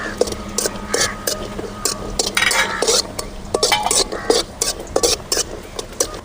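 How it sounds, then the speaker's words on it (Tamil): A spoon stirs cashews frying in ghee in a metal pan, giving steady scraping and clinking with a soft sizzle beneath and a voice murmuring now and then. "கொஞ்சம் நெய் ஊற்றி முந்திரி பருப்பு வறுத்து எடுத்துக்கலாம்"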